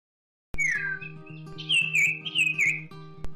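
A Common Iora (cipau) sings alone and close, a clear run of rising and wavering whistled notes and trills with a long vibrating quality, over a steady low background hum.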